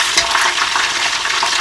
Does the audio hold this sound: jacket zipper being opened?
no